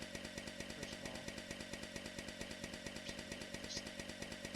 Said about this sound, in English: first weapon, chainsaw